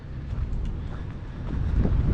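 Steady low rumble of wind buffeting the microphone, building slightly louder toward the end, with no voices.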